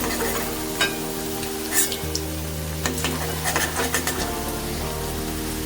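Paneer pieces frying in hot oil give a steady, dense sizzle throughout, with occasional scrapes and clinks from a utensil stirring and lifting pieces out of the pan.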